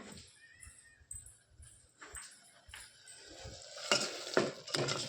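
Stirring a pot of sambar in a home kitchen, with soft scraping and clinking of a spoon against metal, a few louder knocks near the end, no talk.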